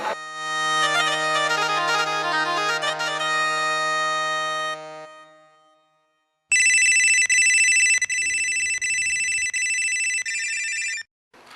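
A telephone rings in a Hindi comedy scene: a loud, steady electronic ringtone for about five seconds, a short pause, then a brighter, higher-pitched ring for about four seconds, with no talk over it.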